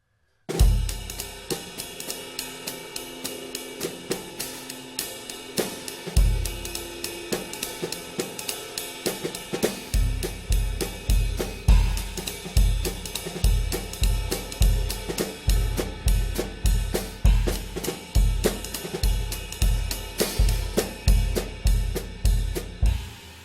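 A steady drum groove with a deep bass drum thumping on each downbeat, layered with busier hits and cymbal wash, loud and continuous.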